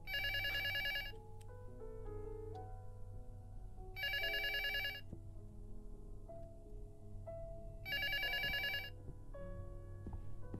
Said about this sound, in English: let's get down there and pick up the phone.